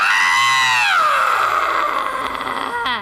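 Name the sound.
voice imitating a guttural, scratchy, throaty monster scream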